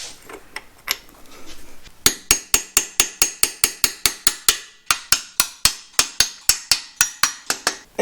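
Clips snapping onto Corvair flat six engine shrouds, first a few scattered taps, then a long, steady series of about twenty sharp metallic clicks in a regular rhythm, close and distinct.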